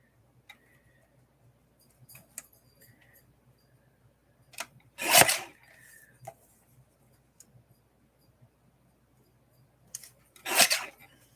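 Scissors snip paper pieces for a journal in a quiet room, a few short crisp cuts and two longer close slicing strokes separated by silence and small ticks.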